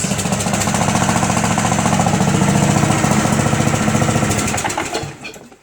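A power tool hammers steadily and loudly for several seconds, bolting a sprocket back onto a 1-ton roller during a repair, then winds down abruptly.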